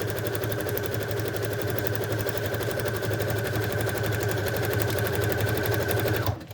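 A sewing machine runs steadily while stitching pressed-wildflower tags, a fast even mechanical chatter held at constant speed close by, stopping abruptly at the end.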